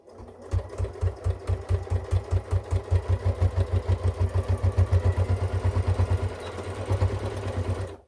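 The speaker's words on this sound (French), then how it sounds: "Et on va coudre à 1 cm ici." A sewing machine stitches a fabric bowl cozy in a fast, even run of mechanical pulses. It pauses briefly near the end, then resumes, close and clear with no talking.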